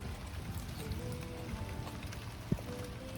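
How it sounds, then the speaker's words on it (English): Heavy rain pours down steadily outdoors, a dense, even hiss with a single sharp knock partway through. "So it's raining like crazy since I got here."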